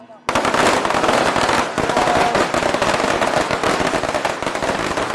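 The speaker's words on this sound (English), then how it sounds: "So the firecracker's going to go now." Firecrackers explode at a Chinese New Year dragon lantern dance in Wuyuan village, a loud, dense, continuous crackling string of rapid bangs erupting abruptly and rattling on without pause.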